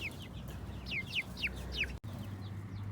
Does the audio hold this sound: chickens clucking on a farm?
yes